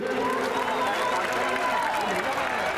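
A rally crowd claps and cheers for a BJP candidate in Ghatkopar, Mumbai, the applause dense and sustained with voices mixed through the noise.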